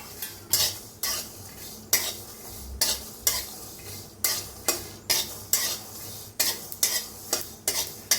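Peanuts and sesame seeds dry-roasting in a pan for a gavar (cluster bean) bhaji, a spoon scraping and stirring in quick repeated strokes, close and fairly loud with no voices.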